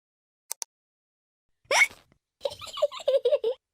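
A cartoon pig hiccups after gulping juice too quickly: two tiny clicks, then a sharp voiced hiccup and a string of short bouncy vocal yelps, close and clear against silence.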